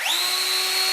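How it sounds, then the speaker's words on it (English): A power drill whirs steadily while boring pilot holes in wood for a hinge on a DIY cold frame, with a quick rising spin-up into a loud, even high-pitched whine, close by and alone. "drill down and make the pilot holes"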